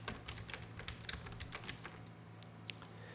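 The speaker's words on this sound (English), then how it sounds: "I'm going to type After Effects." Quick typing on a computer keyboard, close and fairly soft, with a run of brisk clicks followed by a couple of louder isolated key taps.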